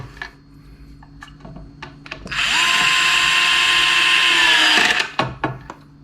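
A WORX WX242 cordless screwdriver drives a screw, a loud close motor whine that rises and holds for about two and a half seconds before stopping, with handling clicks around it.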